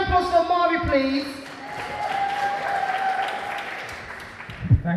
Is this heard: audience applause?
yes